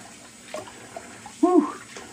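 Cold water running from a bathroom tap, a soft steady stream that swells into a louder gush near the end, with a few small splashes before it.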